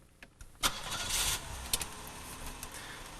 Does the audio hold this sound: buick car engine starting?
yes